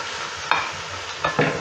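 Raw chopped bottle gourd goes into a pan of nearly browned frying beef, giving a steady loud sizzle broken by a few sharp scraping stirs, with no voices.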